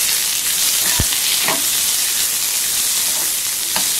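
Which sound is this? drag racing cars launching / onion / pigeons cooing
onion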